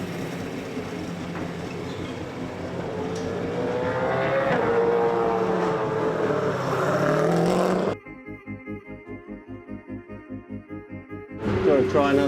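A Kelly Grove Racing race car lapping Winton circuit during a pre-season test day, engine note building as it passes, then a lower pulsing, rhythmic idle-like rumble before a brief loud burst returns.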